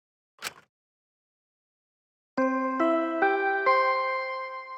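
A short rustle, then a bright descending multi-note ding-dong chime from the video game Danganronpa V3: Killing Harmony, ringing out alone with four sustained bell tones and no speech.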